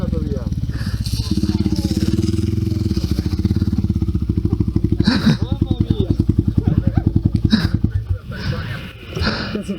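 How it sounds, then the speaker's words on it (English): Motorbikes during a race in Sardinia, loud pulsing engine chugs close by that quicken and fade after several seconds, with people talking over the noise. "There is a motorbike race."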